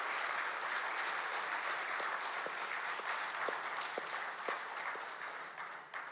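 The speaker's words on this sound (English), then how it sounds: "I will want all of you to give a warm round of applause for yourself" A launch event audience applauds steadily throughout, dense sustained clapping from a crowd filling the room at a constant level, with a few sharper claps standing out near the end.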